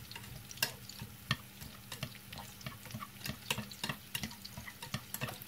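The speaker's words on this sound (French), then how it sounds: "on a ici de l'ail, des échalotes et des oignons avec de l'huile." Garlic, shallots and onions sizzling and frying in oil in a pan, with irregular stirring clinks and scrapes close by, moderately quiet with no talking.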